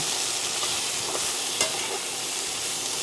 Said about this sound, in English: I'm going to add my cherry tomatoes to the pan.